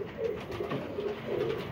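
Pigeons coo in a low, rolling rhythm close by, several soft throaty calls repeating over steady background hum, with no voices.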